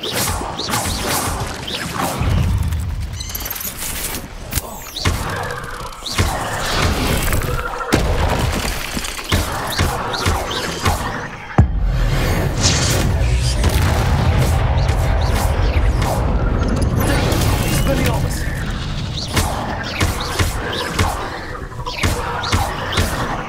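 Hogwarts Legacy spell combat including the Expelliarmus disarming charm: loud whooshing bursts, crashes and booming impacts in a continuous chaotic stream of effects.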